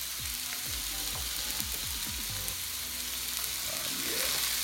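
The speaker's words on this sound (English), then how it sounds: "Hear that sizzling?" A steak sizzles in a hot cast iron skillet, a steady crackling hiss with popping bursts throughout, close and fairly quiet, no talk over it.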